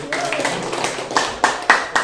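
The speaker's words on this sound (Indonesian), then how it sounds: "Lihat tepuk tangannya." A class of students clapping in a classroom, a few loose claps at first that build into several sharper, louder bursts toward the end.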